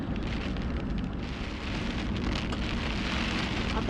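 Steady rain falls on surfaces in the Boranup Forest during a camping trip, a dense, continuous hiss of drops that stays close and even for the whole stretch, with no voices.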